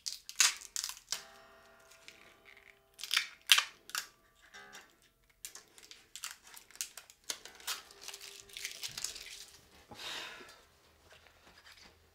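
Protective sticker covers are peeled and crinkled off a new Milton Guitars MT1 prototype guitar, giving close, quiet bursts of sharp crackling and tearing film, broken by short pauses and small handling knocks.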